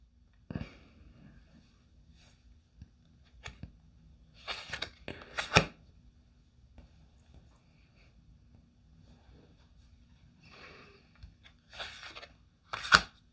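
Several bursts of tarot cards being riffled and shuffled, close and crisp, separated by quiet pauses and light handling noises.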